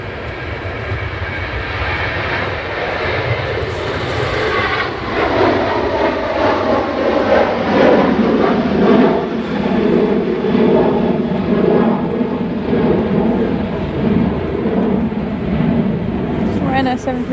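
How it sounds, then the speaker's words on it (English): Ryanair Boeing 737 jet departing Manchester Airport, a loud, close roar of engines building and holding steady for the whole stretch, with people talking over it. "Ryanair 737 going to Brussels."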